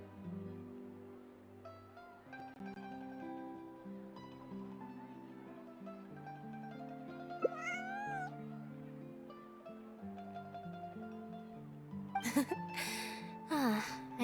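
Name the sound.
cat meowing in video game Genshin Impact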